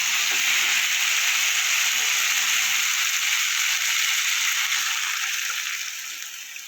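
Water poured into a pan of kohlrabi and potato frying with spices sets off a loud, steady sizzle and bubbling that holds evenly, then slowly fades toward the end.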